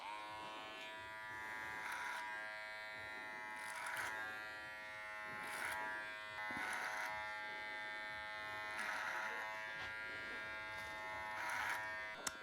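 Electric hair clippers fitted with a guard comb buzz steadily while cutting hair for a blowout taper, a close, continuous hum with periodic swells as the blade passes through the hair, no talking.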